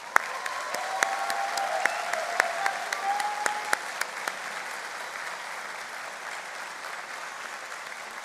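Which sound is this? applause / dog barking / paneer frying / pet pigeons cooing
applause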